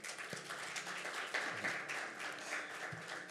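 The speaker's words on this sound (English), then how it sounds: "Please, another round of applause." Audience applause at an agricultural youth-program side event, a steady dense wash of clapping from a crowd sustained throughout, fairly even in loudness with no talk over it.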